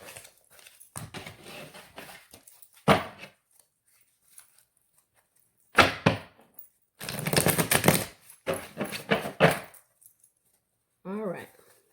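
A deck of tarot cards being shuffled in quick bursts of riffling and clicking, with quiet gaps between the flurries and a brief voice near the end.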